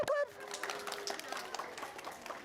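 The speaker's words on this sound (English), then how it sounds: "She clapped to scare the cat away. Clap really loud." Toddlers clapping their hands loudly at home to scare off a cat, a run of quick uneven claps following a brief high vocal sound, mid-distance with faint voices around.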